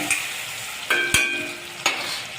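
A mixed vegetable bhaji for Bhogi stir-fried in a pan, with a soft background sizzle broken by a few distinct scraping, clinking strokes of a spoon against the pan, close and moderately quiet, with no voices.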